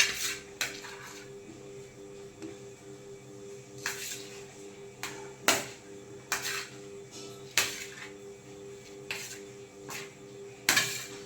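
A spoon stirs food in a metal pot seasoned with asafoetida, giving close, sharp clinks and scrapes against the pot roughly every second or so, over a low steady background hum.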